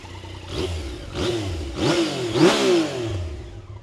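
Yamaha Tracer 900 GT motorcycle engine revved repeatedly, four throttle blips rising and falling in pitch with the idle humming between them, close and clear with no talking.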